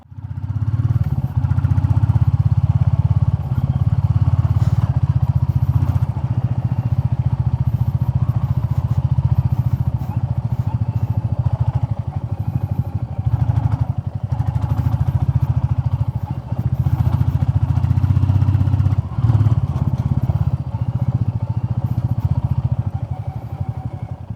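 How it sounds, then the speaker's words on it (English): A Royal Enfield Classic 350 single-cylinder motorcycle rides along a gravel road, its steady low engine thump running throughout with loose stones clattering and crunching under the tyres, close and continuous. "is the Royal Enfield Classic 350 capable of doing these kind of gravel roads?"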